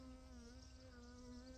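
A small bee buzzes steadily and close by, its continuous droning hum holding without a break.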